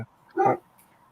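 A single short dog bark or yip, close and fairly loud, in an otherwise quiet indoor setting with a brief voice just before.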